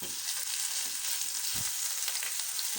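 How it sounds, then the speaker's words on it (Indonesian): Shallots and garlic sautéing in a pan produce a soft, steady frying hiss with faint occasional stirring taps, fairly quiet and close, with no speech. "Di sini kita tumis hingga harum dan sedikit kering"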